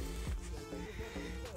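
Small-breed horses neigh near a sheep farm in Bavaria, a couple of short whinnies rising over steady outdoor background noise, fairly close and moderately loud.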